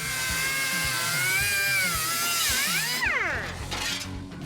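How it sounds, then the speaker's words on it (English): A power tool cuts brand-new sheet-metal wheel tubs during body work on a LeMans muscle car. A loud, close, continuous high whine bends in pitch as the blade bites and eases, over a low rhythmic chatter. "Now I can start cutting up these brand new tubs."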